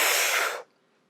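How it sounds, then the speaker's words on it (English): A single deep, forceful inhalation to total lung capacity before a spirometry blow, a broad breathy rush lasting about half a second that cuts off abruptly into silence. "this is breathing into total lung capacity"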